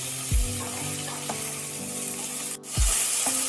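Cauliflower pieces sizzle in hot oil in a kadai on a gas stove, a constant close crackle broken by a few soft knocks and a brief clatter.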